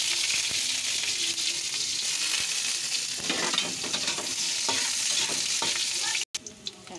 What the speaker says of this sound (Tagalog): magigisa tayo ng mackerel na may gulay